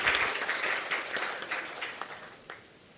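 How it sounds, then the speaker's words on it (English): Applause from an audience at a hospital-based poster presentation session of a medical conference, a dense patter of claps that starts strong and slowly thins and fades over about three seconds. "Please give a round of applause."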